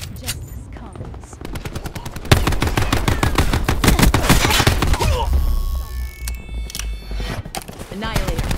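Rapid automatic gunfire from an Annihilator weapon in a shooter game, loud sustained bursts of closely spaced shots, with game voice callouts and effects mixed in.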